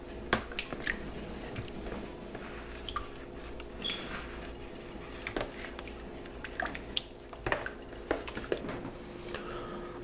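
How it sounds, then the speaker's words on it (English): Liquid ingredients for a red velvet cake batter being stirred in a bowl, with soft wet squishes and light clinks of the utensil against the bowl in an irregular rhythm, close and fairly quiet. "Now we're gonna stir in our liquids, ingredients."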